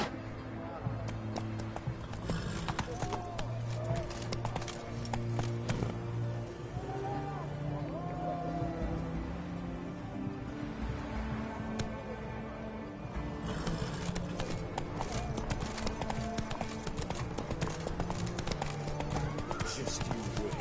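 Roach, a horse in The Witcher 3, gallops with steady clip-clopping hooves, heard under continuous talk and game music throughout.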